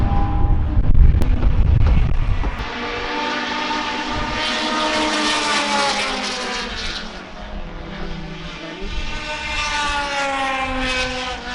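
A Toyota GR Corolla drives past on a race track, its engine note rising and falling with gear changes as it approaches and passes, loud and fairly near, preceded by a few heavy low thumps.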